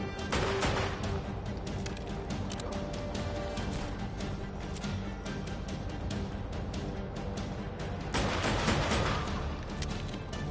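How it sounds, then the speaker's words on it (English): Gunfire in the video game Just Cause 3 at an underground military base, a dense continuous rattle of shots and blasts with a louder burst near the end, no talk over it. "There is gunfire everywhere right now."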